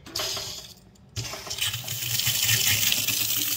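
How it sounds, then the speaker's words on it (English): A newly installed Moen Adler 87203 kitchen faucet gushes water, a loud, close, steady rush that cuts off briefly near the start, then resumes and builds into a continuous splashing stream. "that water coming out, and we're gonna keep an eye on for leaks"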